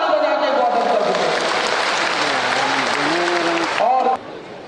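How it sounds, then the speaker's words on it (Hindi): An audience applauds to welcome officials at a Chhattisgarh oath ceremony for newly elected Nishad Kevat community office-bearers. Dense, loud clapping carries on with a voice or tone running over it, then cuts off sharply near the end. "इसलिए मैं चाहूँगा एक बार जोरदार ताली बजा के स्वागत कर दीजिए।"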